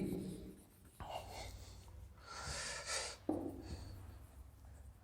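Faint scratchy strokes of writing on a board during a maths lesson, a few separate marks with quiet pauses and soft breathy room noise, no talking.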